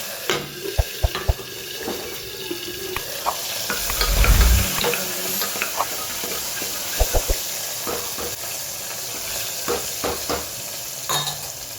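Asafoetida and tomatoes frying in a home kitchen pan, a steady sizzle with stirring clatter and a brief burst of louder hiss midway, plus occasional tap-water splashes nearby.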